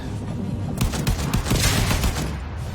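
Enemy blowing up during a Warframe video game firefight: a dense, loud cluster of close gunfire and bursting blasts lasting a couple of seconds.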